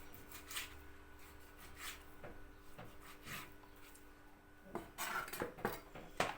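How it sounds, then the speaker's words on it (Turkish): A knife taps and thuds on a cutting board in irregular chops of chicken döner ingredients, quiet at first, then quicker and louder near the end. "Bunların ben hepsini doğrayayım."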